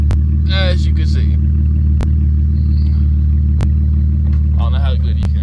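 Unmuffled exhaust of a V6 Camaro 1LT with the mufflers cut off, a loud steady low idle rumble running throughout, with sharp clicks and someone talking over it.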